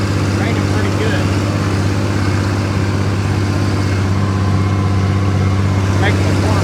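An open station tractor engine runs steadily in the rain, a loud constant low drone with a broad noisy hiss over it, close and unbroken throughout.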